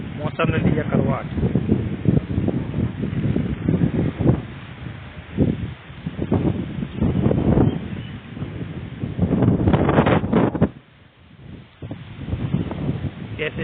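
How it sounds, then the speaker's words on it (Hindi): Strong wind gusts across open farm fields, buffeting the microphone in loud roaring surges that rise and fall, with a reporter talking over much of it. "तेज हवाओं का रुख,"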